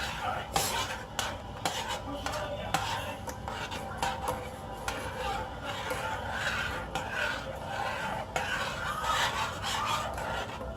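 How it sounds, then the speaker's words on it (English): A spoon scrapes and clinks against a pot while stirring a sour apple gummy mixture, busy repeated metallic taps and rubbing strokes close by, with faint background noise. "So give this a stir."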